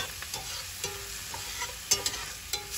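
Garlic fries with a soft sizzle in a cast iron skillet while a utensil stirs it, making light scraping clicks against the pan. The scene is quiet and close, with no one talking.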